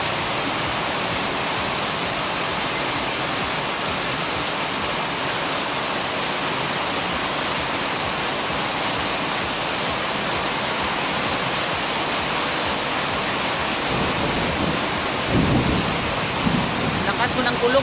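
Strong wind and heavy rain make a dense, continuous wash of noise that never lets up, with a little more low rumble toward the end.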